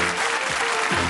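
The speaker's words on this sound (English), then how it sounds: "Give them a nice round of applause." A studio audience on the darts game show Bullseye claps and applauds loudly in a dense, continuous burst, with a faint voice mixed in.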